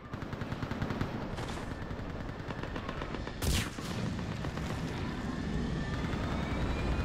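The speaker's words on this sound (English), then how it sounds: "Get that gunship moving!" A gunship lifts off amid gunfire in the Mass Effect 3 video game: a dense, continuous roar of engines and rapid shots, with a sharp louder burst midway.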